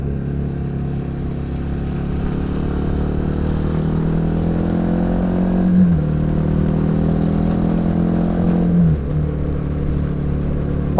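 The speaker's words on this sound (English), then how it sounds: "Yeah, downshifts are really quick and slick." Royal Enfield Himalayan 450 motorcycle ridden on the road, its engine note rising steadily, then dropping sharply with two quick downshifts amid constant wind rush.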